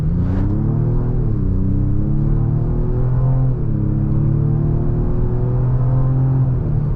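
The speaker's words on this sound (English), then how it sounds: "let's give a little bit of gas here." A 2026 Ford Explorer ST with its 10-speed transmission accelerates from inside the cabin. The engine drone rises loud and steady in pitch, dips briefly at each smooth gear change, then climbs again.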